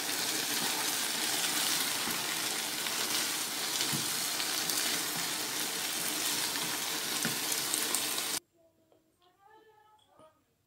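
Chicken and vegetables fry in a pan with a loud, steady broadband sizzle for about eight seconds, then the sound cuts off abruptly, leaving only faint background noise.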